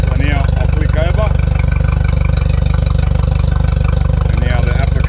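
A boat engine idles with a steady, low, throbbing rumble while being flushed with fresh water, as faint voices come and go over it.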